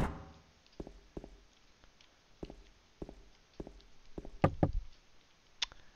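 Knocking on a door in Silent Hill 2, a series of faint, dull wooden raps in irregular groups, distant and soft over a dark, quiet background.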